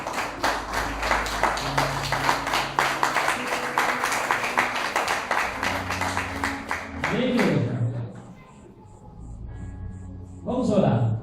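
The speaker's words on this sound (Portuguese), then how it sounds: "Vamos sentar adorando a Deus com as suas palmas." A church congregation claps in worship with fast, rhythmic handclaps that carry on for several seconds, then fade as singing and voices take over.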